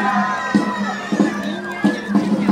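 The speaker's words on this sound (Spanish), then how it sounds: "Que sigan escuchándose esos aplausos para ellos, los más chiquitos." A crowd at a city anniversary parade in Río Primero cheers and claps for passing kindergarten children, with bursts of shouting and whistling rising over a lively, sustained din.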